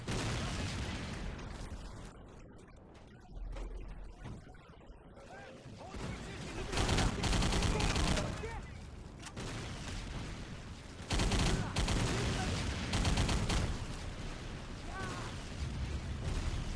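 Rapid gunfire in a first-person shooter video game, dense bursts of shots and crackling blasts rolling in waves over a constant busy background, with a voice talking over parts of it.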